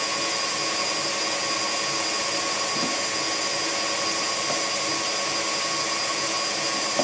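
A food processor whirs loudly and steadily as it mixes almond powder with icing sugar, a constant close motor drone with no pauses.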